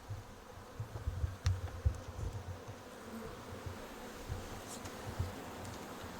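Bees at an Ivry hive drone in a steady low buzz, with individual insects zipping close past now and then over a dense, continuous hum; no voices.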